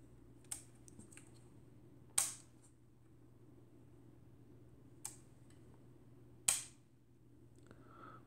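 Shutter of an ICA Atom B Model 53 folding camera with Tessar lens, firing in sharp isolated clicks, four distinct snaps spaced a few seconds apart over a quiet hum, close and crisp.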